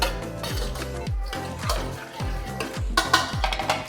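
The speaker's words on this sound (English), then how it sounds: "we'll let it simmer for about a minute or two" Mac and cheese with potatoes and butter in a pot, stirred in a steady rhythm of repeated scraping strokes with soft clinks of the utensil against the pot, faint bubbling beneath, close and moderately loud, with no voices.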